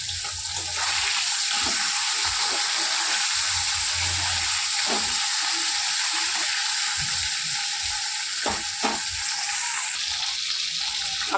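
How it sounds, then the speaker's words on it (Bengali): Fish heads frying in oil in a wok give a loud, steady, close sizzle that fills the whole clip, with a few brief clinks and stirring scrapes near the end and no talking. "দেখুন মাছের মুড়োগুলোকে ভেজে নেব।"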